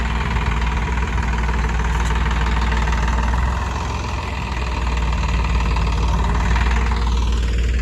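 A Massey Ferguson 2615 tractor engine runs steadily while hoeing sugar beet, a loud continuous diesel drone with knocking throughout, easing briefly midway before returning full.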